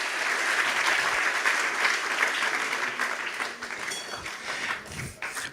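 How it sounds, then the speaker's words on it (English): Conference audience at the Alternative Fuels Conference of the Monaco Energy Boat Challenge applauds its panelists, with close, lively clapping that thins toward the end as a few louder individual claps stand out. "If you'd like to give them a round of applause"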